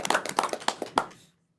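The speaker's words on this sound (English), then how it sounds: "So let's give them a round of applause for their great work." A brief round of applause at a state board of education meeting: a handful of sharp, separate hand claps from a small group, close by and fairly loud, thinning out and stopping after about a second.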